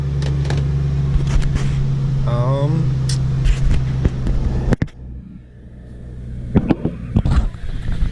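A warmed-up Ford Mustang GT engine idles with a steady low rumble throughout, driven in snow, while a person talks over it and a few sharp clicks and knocks cut in near the end.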